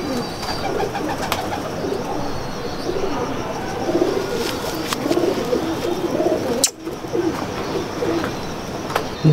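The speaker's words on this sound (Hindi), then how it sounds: "नसर भाई, कौन से कबूतर दिखाने लगे हैं?" Pigeons coo softly and continuously, many birds together in a dense low murmur, with a brief sharp knock partway through.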